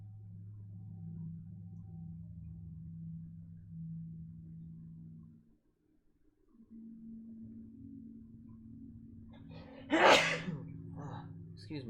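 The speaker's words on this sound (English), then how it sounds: "Sorry, I had a fat sneeze." A single sharp, wet sneeze bursts out close to the microphone after a stretch of quiet background hum, with a short breath just before it.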